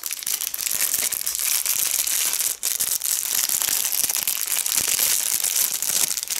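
Loud, close crinkling of plastic bags, continuous rustling and crackling with sharp bursts, briefly pausing midway.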